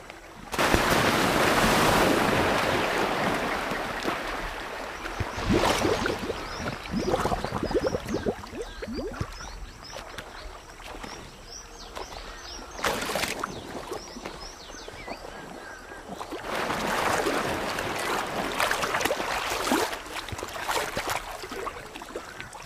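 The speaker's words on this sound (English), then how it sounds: "Their courtship is peppered with bubbles, rumbles, and splashes." Saltwater crocodiles courting in water make loud splashes and churning, bubbling surges, with bursts of heavy sloshing separated by quieter stretches of lapping water, and no voices.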